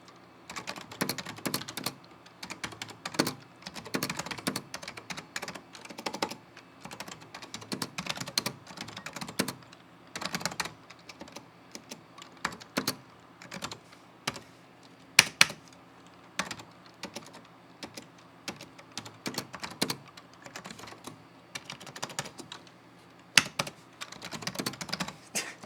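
Typing on a vintage Mac keyboard, a close, irregular stream of clicky keystrokes with brief pauses between bursts and a faint steady hum underneath.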